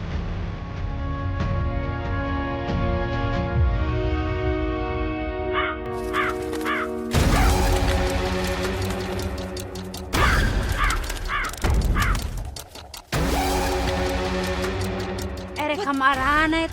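Crows cawing in a flock, harsh repeated caws rising over a dense, loud music-and-effects bed in a TV drama scene, with bursts of other calls throughout.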